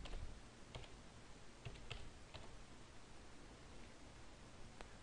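Times being entered on a computer keyboard, faint scattered key clicks over a quiet hiss, a few irregular taps with long gaps, no talk.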